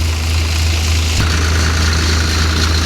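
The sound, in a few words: tractor engine running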